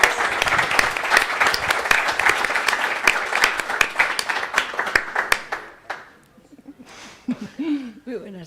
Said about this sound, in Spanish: Y ahora sí, el aplauso de verdad.